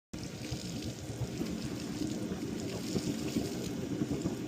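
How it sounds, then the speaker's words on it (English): Water being forced out of underground inground-pool pipes by blown air, gushing and splashing through the skimmer during winterizing; a steady, loud, continuous rush with low churning throughout. "So all this water is being blown out from the pipes underground."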